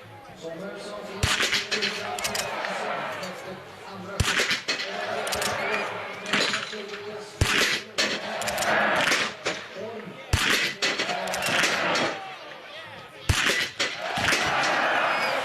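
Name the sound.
biathlon rifle shots at the shooting range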